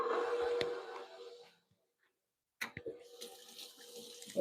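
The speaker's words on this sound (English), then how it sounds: "Give my hands a quick rinse." Water from a kitchen tap runs into a sink as hands are rinsed, a steady close splashing flow that cuts off, leaves a brief silence, then starts again.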